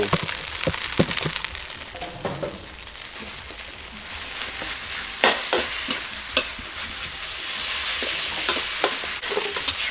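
Korat rice noodles are stir-fried in a hot pan with crispy pork and holy basil, producing a loud continuous sizzle broken by sharp spatula clacks and scrapes at irregular intervals.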